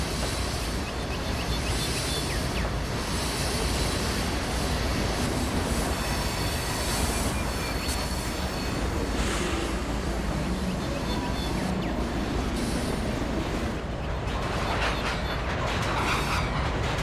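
Train running in the Trainz rail simulator game, a loud, steady rolling roar of wheels on track with metallic squeals and clatter rising at intervals, continuous and close for the whole stretch.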